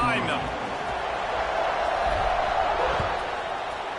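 A football stadium crowd murmurs and roars steadily before kickoff at a Penn State game, a dense, distant wash of crowd noise with a few faint thumps.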